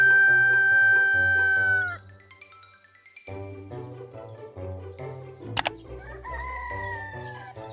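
Roosters crow loudly in a group, one long call giving way to overlapping crows from the flock, with a faint metallic jingle in the middle and no talking.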